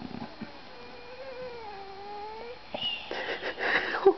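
A cat cries after surgery with a drawn-out, wavering, nasal mewl, followed by thinner broken whimpers and snuffly sounds, close and fairly loud.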